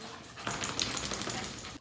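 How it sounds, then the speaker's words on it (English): Unhappy dogs kept in the back of a veterinary clinic whimper and whine close by. Continuous high-pitched cries rise and fall over a noisy room, with no speech. "Dogs are in the back. They're not happy."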